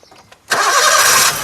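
A 2015 Maruti Suzuki Ritz VXI petrol engine cranks briefly and catches on the first start, settling into a loud, steady idle close by.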